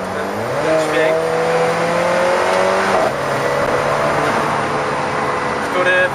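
Mid-mounted turbocharged engine of an Alfa Romeo 4C, loud and close, revving and rising in pitch with steady drone throughout and a brief gear-change dip near the middle; a voice speaks over it.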